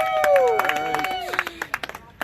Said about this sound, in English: let's have a round of applause for your runner-up at Pro Trophy night